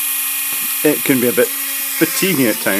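A small drill bores holes in a printed circuit board for a DIY LED floodlight module, giving a steady, constant hum throughout while someone talks over it.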